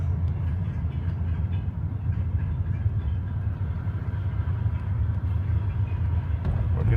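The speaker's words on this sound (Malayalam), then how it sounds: "ഗുഡ്സ് ട്രെയിൻ പോകുന്നുണ്ട്" A heavy goods train rumbles past steadily, a continuous low roar of wheels and wagons that stays loud throughout.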